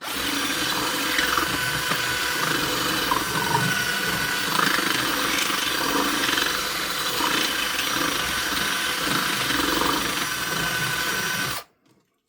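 A power drill widens an opening in soft material, running steadily with a grinding whir for about eleven seconds before stopping abruptly.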